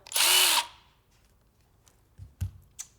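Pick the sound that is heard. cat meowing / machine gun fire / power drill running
power drill running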